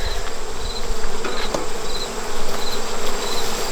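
Honeybees drone steadily at a nuc hive, a dense, continuous buzz close by with slight swells in loudness and no voices.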